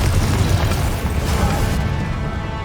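A Confringo blasting spell in Hogwarts Legacy bursts into a loud, heavy explosion. A thick, rumbling boom fills the moment close up, with crackling debris over it before it fades slightly.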